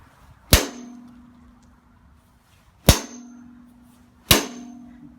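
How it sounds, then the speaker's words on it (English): Three light whacks strike the side of a metal lacrosse shaft, each a sharp ringing clang with a short humming decay, spaced a second or two apart and heard close up with no talk. "I'm gonna do 3 light whacks on the side, 3 vertically, and then go up to the medium strength."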